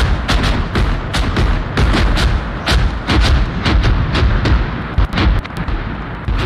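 Rapid gunfire and heavy booming shots rattle through a military video game set in Grenada, with a USMC grenadier's squad under fire; bursts come close together for several seconds, loud and dense, with no talk.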